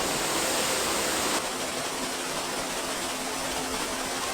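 A waterfall at Pua'aka'a State Park on Maui's Road to Hana roars loud and close, a constant rushing wash of water that eases slightly after the first second and a half.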